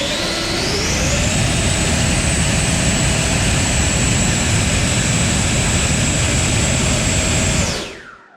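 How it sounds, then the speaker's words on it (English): A pair of FMS 2100kv V2 Platinum electric ducted fans in a Freewing F-14 spool up to a loud, steady, high-pitched whine for several seconds during a thrust test, then wind down sharply. "FMS version 2, Platinum fans, run number 2 with air."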